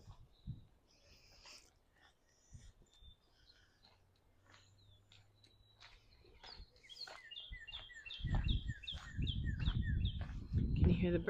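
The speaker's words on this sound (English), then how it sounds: "Can you hear the bird?" Repeated short chirping bird calls in a botanic garden in Chicago, faint at first, then a steady run of bright chirps over louder low rumbling noise.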